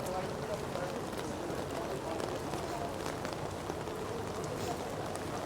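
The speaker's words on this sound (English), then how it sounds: "This rain is not letting up at all." Steady rain on a central London street in November, a close hiss with crisp scattered spatters and taps that run unbroken through the clip, voices murmuring underneath.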